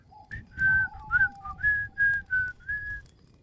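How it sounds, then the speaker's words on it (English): A person whistles a short tune of about ten clear notes during a tabletop roleplaying game session. The notes are close and distinct, stepping between two pitch levels with brief gaps and no talk over them. "how do I whistle without lips?"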